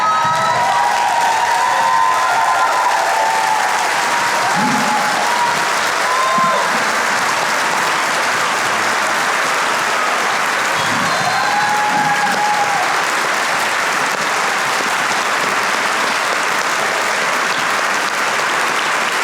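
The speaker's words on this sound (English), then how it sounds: "I think these 6 students deserve a standing ovation" An audience at an elementary school district preservice event rises for a standing ovation, loud continuous clapping with scattered cheers and whoops, occasional shouted voices poking through near the middle.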